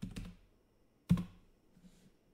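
Two separate clusters of keystrokes on a computer keyboard while a password goes in, close and fairly clear, with quiet gaps between.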